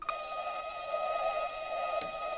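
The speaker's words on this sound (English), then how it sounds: "So initially, that lead line sounded like that, which is pretty much like a chopped thing." An early version of a chopped synth lead line from a track, played in steady 16th notes through a tape machine for distortion and grit, a buzzing sustained tone held fairly constant with no voices.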